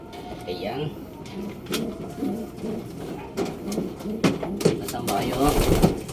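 Pigeons cooing softly in a loft, low repeated coos under someone talking, with scattered bumps and clatter from moving around inside.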